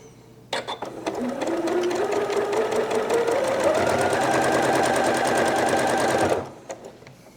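A sewing machine stitches a quilt block in one steady run, its motor pitch rising as it speeds up, close and loud, before stopping with a few soft clicks.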